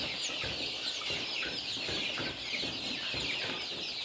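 Chicks and poultry in a rearing hall keep up a dense, continuous chorus of peeping and clucking, with no voices present.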